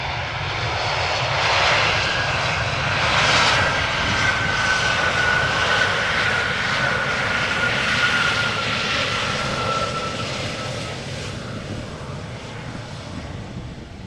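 A Boeing 777 jet roars past at Amsterdam Schiphol with a loud, sustained engine rumble and a thin high whine, the noise slowly tapering toward the end with no voices.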